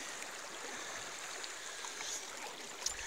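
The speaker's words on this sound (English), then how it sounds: "This here's the middle fork of the Payette River I'm standing in the middle of." Water of the middle fork of the Payette River rushes steadily around someone standing in the river in July, a continuous soft hiss and babble with no voices.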